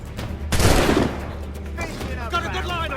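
A gunshot fires in the pirate video game Assassin's Creed IV, a sharp loud blast that rolls out into a brief rumbling decay, with game sounds continuing faintly afterward.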